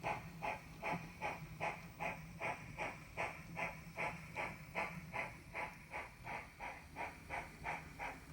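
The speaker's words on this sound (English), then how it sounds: "After exiting tunnel number 2, the train comes to the passing siding at Summit." A PC&N Railway train pulling up to the passing siding at Summit after leaving a tunnel, with steady rhythmic chuffing beats repeating evenly about every half second under a continuous hiss, moderately close.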